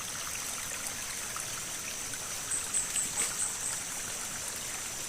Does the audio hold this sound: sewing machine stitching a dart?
no